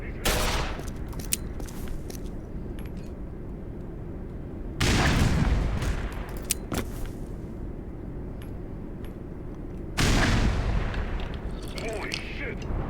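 Sustained gunfire in the Half-Life fan remake Black Mesa rattles in dense, continuous volleys, swelling into heavier blasts at intervals, with game voices shouting over the fighting.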